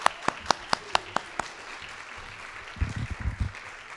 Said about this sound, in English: How about another round of applause for our winners?